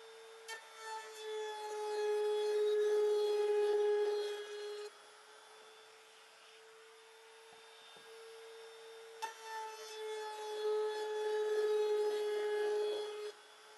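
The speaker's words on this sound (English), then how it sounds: "set up the Maxiwa edge trimmer and set the block here, and we're all ready to run all these boards through." A Maxiwa edge trimmer running plywood boards through hums with a steady motor tone, with two bursts of rasping cutting as boards pass, one near the start and another around nine seconds, quieter idling between.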